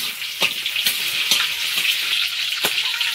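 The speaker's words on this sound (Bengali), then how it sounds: "মশলাটা হালকা ভেজে নিয়েছি," Whole spices, bay leaf, cumin seeds and garam masala, frying in ghee in a home kitchen, a close, steady crackling sizzle broken by a few sharper pops.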